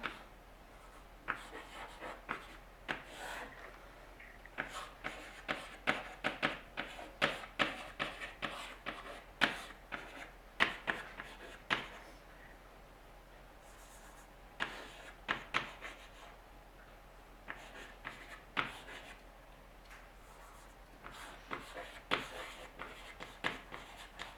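Chalk tapping and scraping across a board during a physics lecture on black holes, a long run of quick, irregular strokes and taps, fairly close and moderately loud, with brief pauses and no speech.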